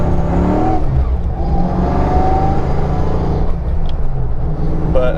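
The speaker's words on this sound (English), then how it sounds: "So I'm going to take the car up to about 65" A car fitted with 3.73 gears accelerates toward 65 mph on a busy road, its loud, steady engine rumble and whir building up close without any talk.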